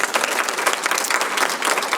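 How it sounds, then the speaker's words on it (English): A crowd at a women's business conference claps in a loud, dense, steady burst, with many hands overlapping closely throughout the short stretch. "Give her a round of applause."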